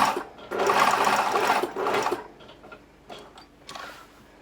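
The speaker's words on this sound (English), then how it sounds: "sewing along the edge. When I get to a point, needle down and pivot." A sewing machine stitches along a fabric edge in a fast whirring run, stops, then makes a few short ticking bursts as the needle is lowered and the work pivoted.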